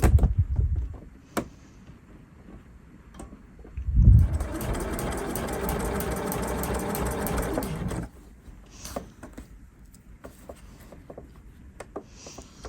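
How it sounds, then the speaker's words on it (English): A sewing machine runs a steady burst of a few seconds while stitching reverse stitches on a patch pocket, its close mechanical whir standing alone between quieter handling knocks. "I'm going to do a couple of normal reverse stitches on this one."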